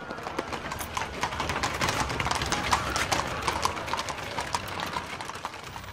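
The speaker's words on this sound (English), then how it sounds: "Only then would the horses move on." Hooves of several horses clip-clop steadily at a walk, a dense patter of strikes that is moderately close and carries on without pause.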